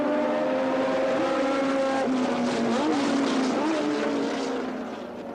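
1978 Formula 1 race cars at the Argentine Grand Prix, a loud, sustained high-revving engine howl with pitch wavering up and down as the cars pass, fading slightly at the end.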